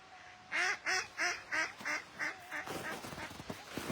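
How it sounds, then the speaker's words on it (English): Ducks on a snowy pond at Sanquhar Pond in Forres give a run of about seven steady, rhythmic quacks close by, then fade into softer, looser calls. "Oh, look at all the ducks."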